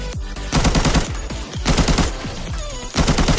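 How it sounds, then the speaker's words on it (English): AKM rifle in the video game Arena Breakout firing short bursts, three loud rapid clusters of shots separated by brief pauses, close and punchy with no talk. "You can again shoot in burst instead of doing like continuous shot."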